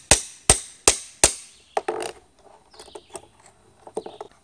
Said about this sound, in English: Take a flat-headed crowbar and a hammer and simply start with the corner of the block and hammer that crowbar in there.